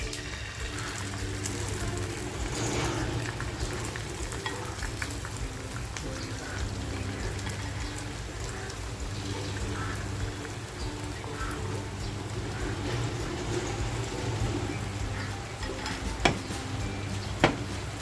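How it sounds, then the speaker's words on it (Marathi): Beaten egg frying in well-heated oil for a prawn egg roll, a steady soft sizzle and crackle close by, with a couple of sharp utensil taps near the end. "आता जे अंड फेटून घेतले ते अंड टाकते"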